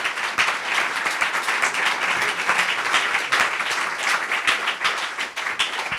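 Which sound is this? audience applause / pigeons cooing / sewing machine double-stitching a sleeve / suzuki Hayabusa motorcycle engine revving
audience applause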